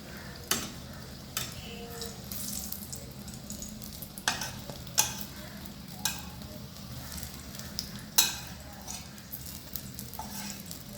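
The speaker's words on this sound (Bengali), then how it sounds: "আমাদের বেগুন ভাজা হয়ে গেছে" Brinjal (eggplant) slices fry in hot oil on a gas stove with uneven flame, giving a steady sizzle broken by a few sharp pops and clinks at irregular intervals, close by, with no talking.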